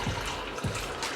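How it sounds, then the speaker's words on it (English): Masala chai is poured over sugar at a sink in a steady splashing stream, with two low gushes as the liquid lands. "you just want to pour this over a couple times to make sure that it mixes well with the sugar"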